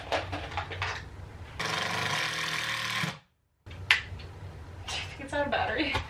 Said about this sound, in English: This drill bit is so much better than what I've been doing.